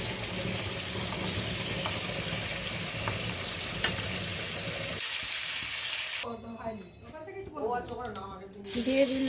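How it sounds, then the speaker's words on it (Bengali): Dried chillies, fenugreek and cumin are tempered in hot oil, a steady close sizzle and crackle of frying spices that drops away briefly, then returns under a voice talking in a home kitchen. "দিয়ে দিলাম শুকনো লঙ্কা, মেথি ফোড়ন দিলাম, জিরে ফোড়ন দিলাম"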